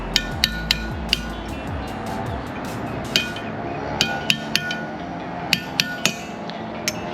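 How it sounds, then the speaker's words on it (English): A hammer taps a locking tab on a Mercury 200hp outboard lower unit, giving a dozen or so light, sharp metallic clinks in uneven clusters, close and clear over a low background rumble, with no talking. "So you're going to want to come underneath this tab, lightly tap it, open it up, flatten it out."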